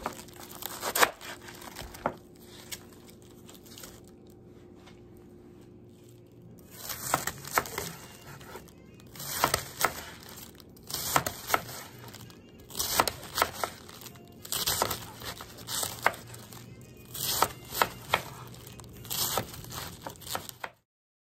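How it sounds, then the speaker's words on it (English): A knife cuts and slices a head of cabbage, giving repeated crisp crunching and crinkling strokes in irregular bursts with short pauses between, close and fairly quiet. "once you have the cabbage cut and sliced, go ahead and rinse off your cabbage."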